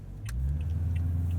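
A 2019 Toyota Tundra SR5 double cab with a 5.7 liter i-Force V8 runs steadily, its deep low rumble close and continuous with a few faint ticks above it.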